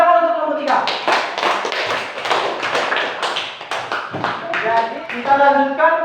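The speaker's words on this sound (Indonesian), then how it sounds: "Tepuk tangan untuk nomor 3." A classroom of students claps for a student group, a run of quick, uneven hand claps with voices speaking and calling out over them throughout.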